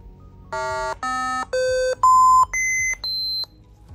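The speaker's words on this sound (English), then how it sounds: "So you will hear a noise over the speakers." A series of six electronic test tones from laptop speakers, each lasting about half a second with short gaps, rising in pitch from low to high.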